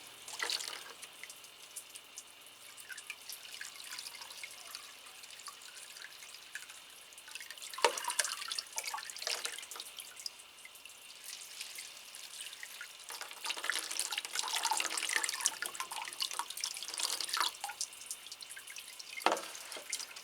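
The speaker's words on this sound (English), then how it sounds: "So we'll give this a good watering as well." Water poured onto a very dry potted Phalaenopsis orchid, a soft continuous trickle and drip that swells in places, fairly faint and close, with no talk.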